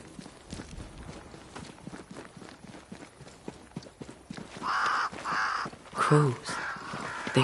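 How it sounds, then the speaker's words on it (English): Crows caw in the video game Banishers: Ghosts of New Eden, a few harsh calls standing out near the end over a soft backdrop of clip-clopping hooves and footsteps. "Crows."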